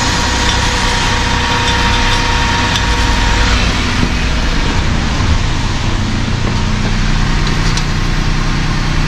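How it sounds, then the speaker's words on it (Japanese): Honda N-BOX JF1 kei car engine idling steadily for the whole stretch, a continuous close hum with a faint high whine and no talk over it. "では30分ぐらいねエンジンかけます。"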